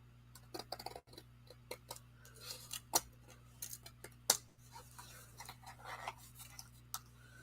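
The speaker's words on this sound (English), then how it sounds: "I'm going to go through with my scissors and I'm going to cut this out right along the black border" Scissors cutting paper along a black border during a paper craft demonstration: quiet, close snips and clicks come in an irregular rhythm, with no talking.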